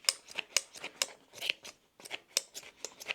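Very dull pair of household scissors snipping, about a dozen short, crisp crunchy cuts in an uneven rhythm, close and fairly quiet, with a brief pause midway and nothing else heard.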